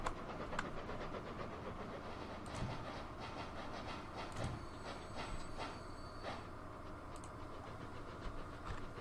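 A train passing in the Transport Fever 2 railway simulation game, a steady rumbling clatter of wheels and cars with periodic clicks, moderately faint and continuous.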